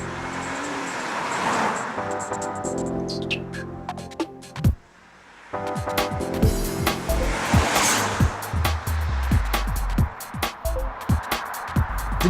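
A BMW 3 Series Cabriolet with a 3-litre straight-six engine revs and drives past, its engine note rising and falling with a brief lull, then surging again with tire and road noise close by.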